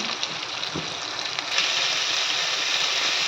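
Onions frying in a pan give a steady, close, hissing sizzle that swells slightly louder partway through and then holds evenly to the end.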